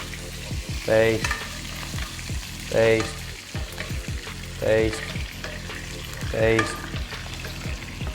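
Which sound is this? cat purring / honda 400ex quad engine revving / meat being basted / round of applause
meat being basted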